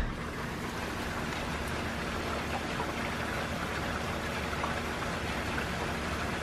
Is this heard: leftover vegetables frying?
no